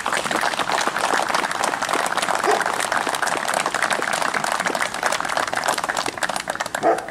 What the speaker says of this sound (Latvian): Es gribu aicināt jūs visus veltīt ģenerāla kungam varenas aplausus.